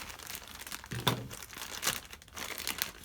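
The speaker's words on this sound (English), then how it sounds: "I always worry when I open these bags for fear I'm going to cut into the merchandise." A plastic mailer bag being opened, with crisp crinkling and rustling that swells in a few louder crackles among steady handling noise, close by and without talk.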